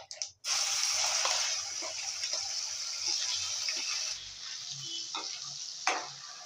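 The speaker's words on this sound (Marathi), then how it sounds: "त्याचं वाटण तयार आहे, ते टाकून घेऊ आपण तेलात." Ground roasted masala paste for a green peas curry sizzling and crackling steadily in hot oil in a pan, with faint stirring scrapes, close up and with no talk.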